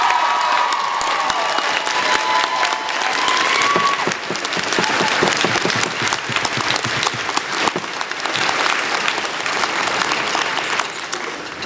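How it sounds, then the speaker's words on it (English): Large audience at a university convocation ceremony in a hall giving a sustained round of applause for faculty on stage, a broad steady wash of clapping with faint cheers mixed in, lasting the full stretch. "how about a big round of applause for the faculty on the stage for their support?"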